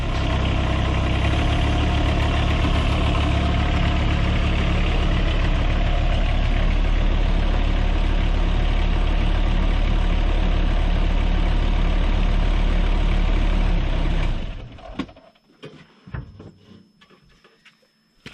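A Kubota U-25 compact excavator's diesel engine runs in a loud, steady idle close by for about fourteen seconds, then cuts off, leaving faint clunks and quiet.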